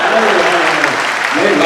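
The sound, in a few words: audience applause at a comedy mushaira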